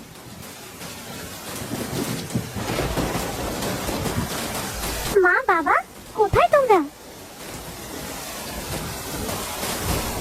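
Heavy rain pours during a storm, a dense steady roar with gusty wind and low rumbles throughout. Midway, a voice calls out briefly over the downpour.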